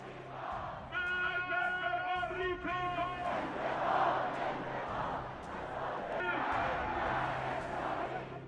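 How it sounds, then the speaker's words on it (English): A massive crowd at an Iranian state funeral chants in loud unison, rhythmic shouted phrases repeating over a dense roar of many voices, echoing across an open space. "Loud chants of "Death to America" and "Death to Israel" echo through the crowd."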